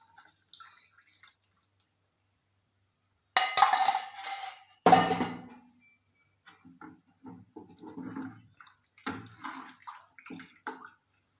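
Coconut milk is poured into a pot of rasam in a home kitchen. Two short, close liquid gushes come after a quiet stretch, followed by scattered soft drips and light splashes.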